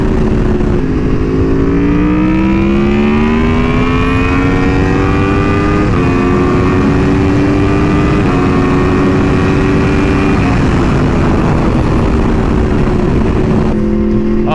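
A Chevrolet Corvette engine pulls hard and loud and close, its tone climbing through gears in long sweeping rises with brief dips at each shift, over steady road roar and no talk.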